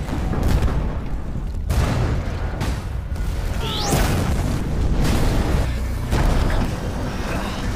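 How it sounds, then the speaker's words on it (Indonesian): Chemical storage tanks explode one after another in several deep, loud booms and bursts over a constant roaring, crackling fire. "membuat tangki yang berisi bahan kimia satu persatu meledak"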